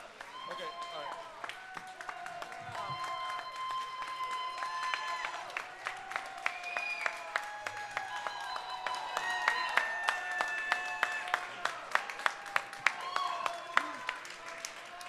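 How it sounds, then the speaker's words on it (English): An audience claps for Jack, the patter growing denser and louder toward the end, mixed with voices and sustained tonal sounds in the room. "Give a round of applause to Jack back there"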